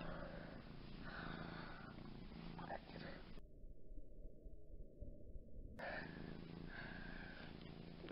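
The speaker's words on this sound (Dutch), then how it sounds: "Dat mijn kat." A domestic cat purrs quietly up close, a soft, low, continuous rumble that rises and falls steadily in a still room.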